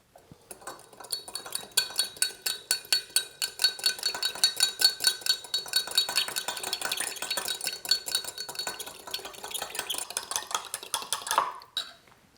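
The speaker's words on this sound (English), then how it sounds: "it's really important to vigorously mix this with a fork or a whisk" Fork or whisk beating oil vinaigrette in a bowl for a salad, a steady fast run of light clinking and scraping strokes that continues for about eleven seconds before stopping, close and fairly loud with no talking.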